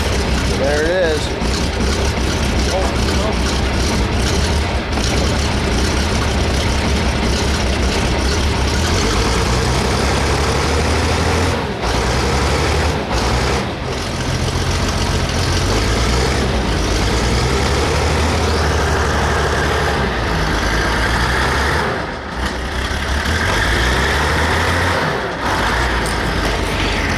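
A 3850 wheel loader's diesel engine runs just after a cold start with glow plug use, a steady heavy low rumble at close range with brief dips, while someone talks over it.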